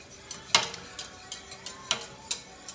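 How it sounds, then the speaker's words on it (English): Grits being whisked into boiling cream and turkey broth in a pot, with repeated sharp metallic taps and scrapes of the whisk against the pan at an irregular rhythm, close and fairly quiet, no talking. "I got the cream and the turkey broth boiling, and I'm going to whisk these grits in"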